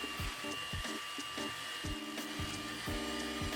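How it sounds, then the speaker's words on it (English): A hand mixer on low speed beats milk and instant vanilla pudding mix, giving a steady motor whir with a rhythmic, repeating pulse as the beaters turn, close and alone. "using a hand mixer on low speed, mix for 2 minutes until the pudding thickens."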